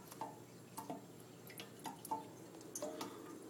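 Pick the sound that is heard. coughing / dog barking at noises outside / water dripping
water dripping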